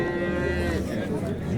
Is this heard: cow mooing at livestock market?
yes